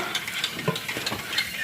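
Blue rice stirred in a hot pan, a spoon scraping and clinking against the metal over a steady soft sizzle, close and alone.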